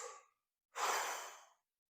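A single quick, close breath drawn in alone in a quiet room after a brief faint exhale, soft and airy and lasting under a second.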